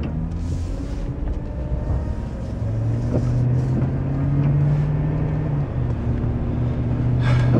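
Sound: Chevy 5.3 engine whining while driving

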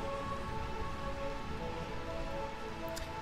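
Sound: rain in Burmecia, from video game Final Fantasy IX

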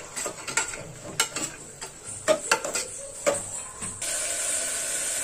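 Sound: sautéing pavta beans with turmeric in a pan

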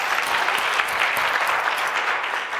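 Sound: applause

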